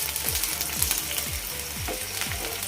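Garlic fries lightly in oil in a pan for a spicy garlic chutney, giving a steady soft sizzle broken by regular scraping strokes of a stirring spoon, close by and with no voices.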